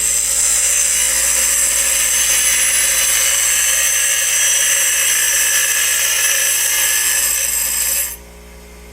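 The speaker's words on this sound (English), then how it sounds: "On the grinder, I'm just going to do a little groove on here." A bench grinder cuts a groove into a small metal timing chain adjuster cam for a Honda CT70 trail bike, making a loud, steady, high-pitched grinding whine that holds for about eight seconds and then drops to a quieter motor hum.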